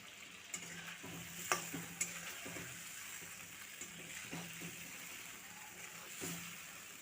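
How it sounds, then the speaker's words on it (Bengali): Fried potato and brinjal pieces stirred in a pan for a Bengali parshe fish curry, with a soft continuous sizzle and occasional light spatula knocks against the pan. "কিছুক্ষণ কষে নিচ্ছি"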